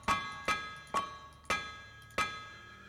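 Metal hammered on an anvil while smithing in the game TerraFirmaCraft: five sharp, ringing clangs spaced about half a second apart, loud and close, each note lingering briefly.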